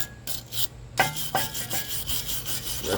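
Someone scrubs a front-end spindle from a 1976 Oldsmobile Cutlass four-door clean with quick, harsh rasping strokes, loud and close, in uneven repeated bursts.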